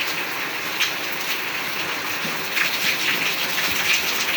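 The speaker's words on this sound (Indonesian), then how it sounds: "ini hujan semakin kencang" Heavy rain pours down in a steady, loud wash that swells slightly stronger toward the end, with no voices heard.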